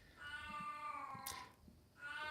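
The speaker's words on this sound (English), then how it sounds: "Oh, my cat's gonna go off." An old cat with a sore hip meows in a long, drawn-out complaining wail, pausing briefly before starting again, fairly close and clear over a quiet room.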